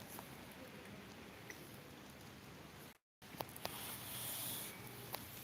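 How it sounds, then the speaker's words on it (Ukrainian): Steady rain patters and hisses throughout, dense and close, with a brief dropout in the middle before the downpour returns a bit louder. "тільки я включив і дощ почався сильний"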